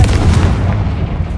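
A Confringo blasting curse bursts in Hogwarts Legacy, a loud, deep rumbling explosion that rolls on for over a second with heavy low-end boom and no voices over it.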